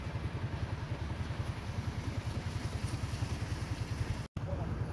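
A borrowed motorcycle engine running with a steady low, rapid putter, fairly faint and even throughout, with a brief dropout near the end.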